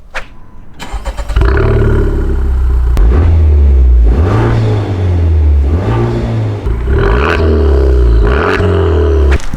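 A tuned Honda Civic Type R's exhaust roars as the engine revs up through the gears, loud and close, with rising and falling pitch and brief dips between pulls.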